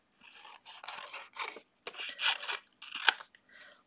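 Card stock is trimmed for a stamped floral craft project in a run of short crunchy cuts, about eight close strokes in quick succession with no talking.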